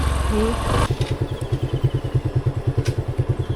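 A motorcycle fails to start: a loud voice comes first, then the engine cranks in a fast, even chugging rhythm for about three seconds without catching.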